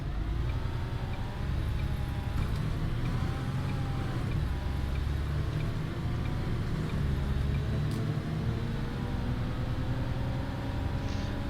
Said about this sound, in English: The sounds on this particular bus are really closely matched